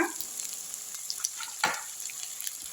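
Onions sizzling as they hit cumin frying in hot oil in a pan for a mushroom pepper fry, a quiet continuous crackle with small pops and a brief stirring scrape, no voices.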